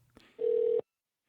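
A single steady electronic telephone tone, about half a second long and fairly loud, sounds at the start of a phone call, with quiet background before it and silence after.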